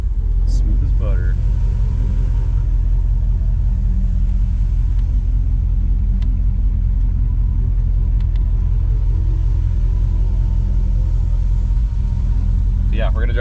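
The turbocharged LS-swapped Ford Ranger rumbles steadily on a test drive, a loud, deep continuous engine drone from inside the cab, with a few faint brief chirps over it.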